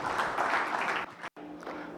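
Audience applause at a conference keynote welcomes a speaker, moderately loud at first, then cut off abruptly, leaving quieter room tone and a faint trailing patter.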